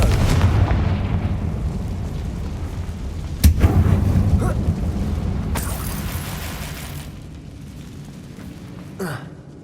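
Confringo blasting spell explosions in Hogwarts Legacy inside a closed mine shaft resembling a tomb: a sharp booming blast near the middle with lingering rumble, a second burst soon after and a smaller pop near the end, over steady low ambient roar.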